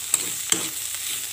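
Soybeans are stir-fried in a pan over a soft steady sizzle, with two quick scraping clicks from a spoon mixing them; close, brief and fairly quiet, with no talking.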